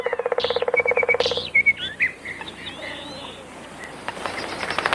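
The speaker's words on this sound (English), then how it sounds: "Blue-cheeked bee-eaters, one of our most exotic birds." Blue-cheeked bee-eaters calling in a desert at sunrise: a rapid rhythmic trilling burst followed by several clear rolling calls and faint distant chirps, with no speech.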